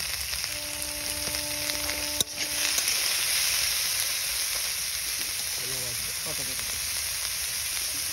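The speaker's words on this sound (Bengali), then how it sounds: "এই যে মাছের তেল পড়ে গিয়েছে, এবার মাছ ভাজা হবে, তাই তো?" Hot oil sizzling and spitting as fish fries in a pan in a village home kitchen, a loud, steady crackle that follows a brief clatter and carries on alone to the end.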